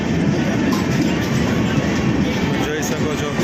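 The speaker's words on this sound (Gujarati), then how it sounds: "અત્યારે ટ્રેન સુરંગ પહાડને પાર કરીને જઈ રહી છે." A train runs through a long mountain tunnel at night, a loud, close, continuous rumble of wheels and carriages with a rushing, enclosed roar that stays steady throughout.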